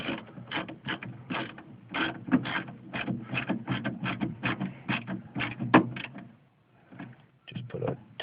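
A small screw being driven into a door latch actuator from a 2008 Honda Odyssey, heard as a quick rapid run of ratcheting clicks, close and fairly faint, with a brief pause near the end before it resumes.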